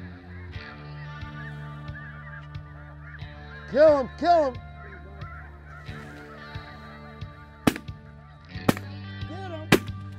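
A single goose honks in flight during a waterfowl hunt, two loud nasal calls close by, followed by several sharp shotgun blasts, with hunters' voices briefly heard.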